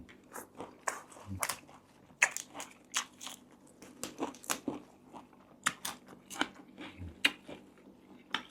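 Crispy Thai pork crackling is crunched in repeated sharp, close bites and chews, irregular bursts of crackle scattered across the whole stretch with quiet gaps between.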